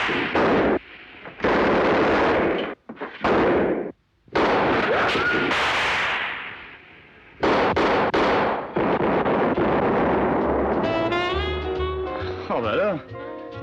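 Loud cannon blasts boom one after another in heavy bursts, close and chaotic, with voices shouting among them.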